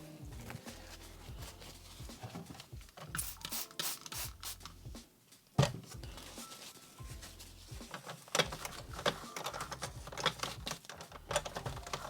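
A dirty mechanism on a 1996 Magical Movin' Pollyville playset is wiped with a paper towel, giving close, irregular scratchy rubbing and rustling strokes with brief pauses and a sharp knock midway.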